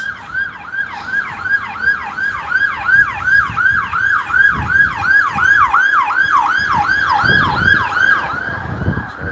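A loud ambulance siren wails in a steady, rapid rising-and-falling pattern close by in windy Phoenix Park, with traffic rumble underneath.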